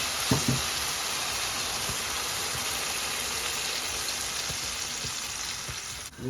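Red spinach and hilsa fish sizzle and fry steadily in a pan, a dense continuous crackle with a few stirring knocks near the start, close and alone without talk.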